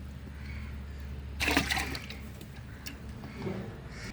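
Water poured by hand over freshly planted pole bean seeds in a home vegetable plot, a short splashing gush about half a second long, followed by faint trickles against steady low background hum.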